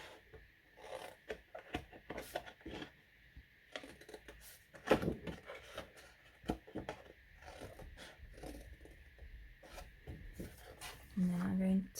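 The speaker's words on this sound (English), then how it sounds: "I'm going to cut all the way up this score line right to the top." Card stock of a large handmade butterfly gift box being cut along a score line, heard close up as a run of dry, rasping scrapes and crisp rubbing strokes, with one sharper crunch midway and a low hum near the end.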